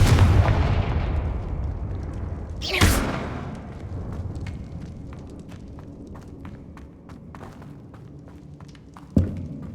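Confringo blasting spells explode in the Hogwarts Legacy video game: a heavy rumbling blast opens, a sharp whooshing burst follows a few seconds later, and another punchy hit lands near the end, with light clatter between.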